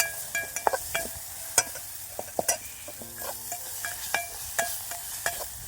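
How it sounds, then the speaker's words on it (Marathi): Green chillies sizzle and fry in a pan while a spoon stirs them, giving steady close scraping and clinking strokes over a continuous crackle, with no talk. "चांगलं परतलं म्हणजे मिरची चव देणे."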